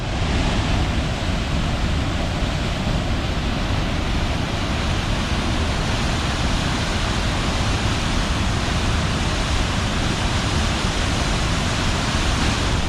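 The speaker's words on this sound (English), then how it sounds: "high force waterfall. The river tees, cascades over the Windsor outcrop and plunges over 21 metres to the river below." High Force waterfall, where the River Tees plunges over 21 metres, sends up a loud, constant broadband roar of crashing water that fills the whole stretch with no voices.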